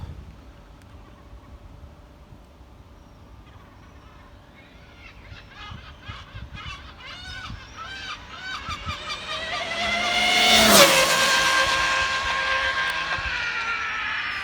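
An Arrma Limitless RC car on a speed run near 140 mph at full throttle, its motor whine rising steadily from a distance to a loud, sharp pass-by, then fading away.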